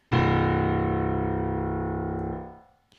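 A single sustained note from a sampled Production Voices Estate Grand Piano with a rich, buzzing harmonic tone rings out loudly, holds steady for about two seconds, then fades quickly.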